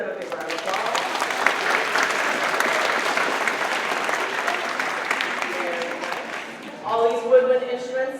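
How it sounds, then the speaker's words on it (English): A concert audience at a school spring concert gives a big round of applause to the clarinet section, with loud dense clapping throughout and music returning at the end. "let's give them a big round of applause"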